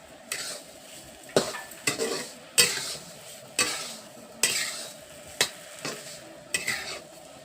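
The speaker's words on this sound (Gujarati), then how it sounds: "હવે આપણે હલાવી નાખશું બધું." A spoon scrapes round and round a pan of sheera as a bowlful of sugar is stirred in, about eight distinct rhythmic strokes over a soft sizzle, close and alone with no voices.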